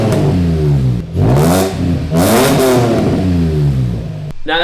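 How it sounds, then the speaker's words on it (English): A Nissan 350Z fitted with a Flash Shark exhaust revs hard several times in quick succession, loud and close, each rise and fall of the engine note clear with a brief pause between bursts. "Now that sounds a whole lot better than it did before"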